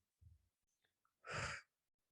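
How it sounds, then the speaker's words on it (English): A single slow, deep breath close to the microphone: a soft short inhale, a pause, then a fuller, louder airy exhale lasting about half a second before quiet returns. "Take a big deep breath."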